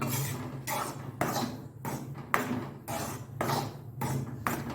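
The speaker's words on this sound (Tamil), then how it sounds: "ஸ்டவ்வை வந்து மீடியம் ஃப்ளேமில் வச்சு அரிசி மாவை வந்து நல்லா வறுத்து எடுத்துக்கலாம்" Rice flour roasting in a pan over a medium flame for kozhukkattai, with repeated rhythmic scrapes and clinks of a spoon against the pan in regular strokes, fairly close and steady.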